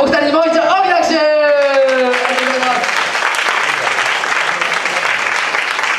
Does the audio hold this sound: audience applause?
yes